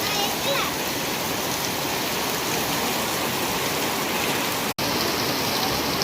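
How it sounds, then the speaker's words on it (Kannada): Heavy rain with thunder pours down on Daddi village in a steady, dense hiss, with a brief cut in the sound near the end. "ಇವತ್ತು ದಡ್ಡಿಯಲ್ಲಿ ಗುಡುಗು ಸಮೇತ ಭಾರಿ ಮಳೆ"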